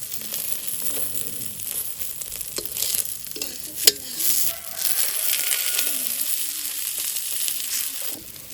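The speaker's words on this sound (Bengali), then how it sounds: "ডিম রান্না দেখতে এসেছি, বৌমারা ডিম রান্না করছে" Eggs for an omelette frying in a pan at home, with a steady crackling sizzle and occasional scraping stir sounds running throughout, close and moderately loud with no speech.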